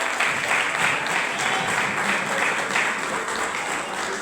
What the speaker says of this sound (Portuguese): exalte o nome de Jesus e também glorifica Ele com as palmas